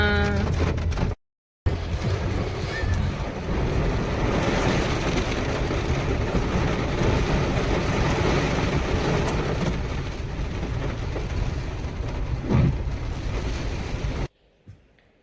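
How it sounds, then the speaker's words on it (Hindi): Heavy rain begins, with water streaming onto glass: a dense, steady hiss that fills the whole stretch after a brief dropout and then cuts off abruptly near the end. "बारिश स्टार्ट हो गई है, देख रहे हैं बिल्कुल शीशे पे भी पानी आ रहा है।"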